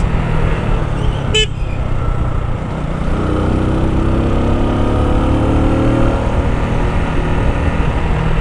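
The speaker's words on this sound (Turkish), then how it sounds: "Oo, mis gibi trafik var." Busy road traffic heard from a moving motorcycle, with a steady engine and road rumble throughout and a brief car horn toot near the start.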